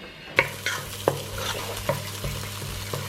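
Steady oil sizzle of onion frying with tomato paste, with intermittent scraping stirs of a utensil against a pan, close up, no talking.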